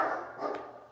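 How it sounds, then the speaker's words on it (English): Dogs bark faintly in the distance in a home setting, a short muffled burst in a quiet room with no talking. "And there go the dogs again."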